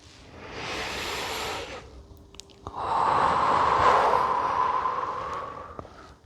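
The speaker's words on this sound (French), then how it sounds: "on inspire et on expire" Two slow, audible yoga breaths up close, a long inhale followed by a longer, fuller exhale through the mouth, with quiet pauses around them.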